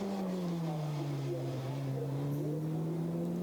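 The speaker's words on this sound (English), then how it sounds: "So through the hairpin goes the leading KTM." KTM GT4 race car on the Nürburgring, engine note dipping and climbing again through the hairpin, a sustained nasal drone with a commentator talking over it.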